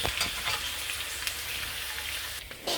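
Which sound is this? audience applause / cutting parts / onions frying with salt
onions frying with salt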